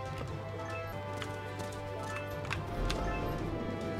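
A horse gallops in a video game, its hooves clip-clopping in a quick steady rhythm under a continuous electronic game background, with no talk over it.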